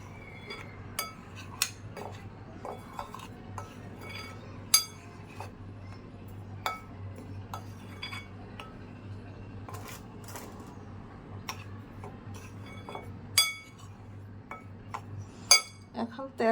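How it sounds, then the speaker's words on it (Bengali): Baking powder being mixed into cake batter in a bowl, with scattered light clinks and taps of a utensil against the dish over a steady low hum. "আর এটাকে এইভাবে পাউডারটা একসঙ্গে মিশিয়ে নিতে হবে।"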